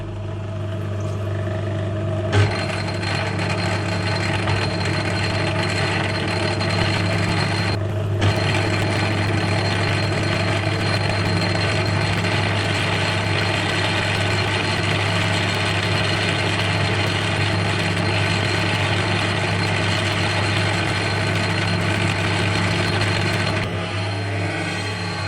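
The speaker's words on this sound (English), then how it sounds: "I've slowed the lathe down at about 200 RPM now." A metal lathe turns steadily at about 200 RPM while a cut is fed by hand on a model steam pump plunger, giving a continuous low mechanical hum with a strong steady drone and no talking.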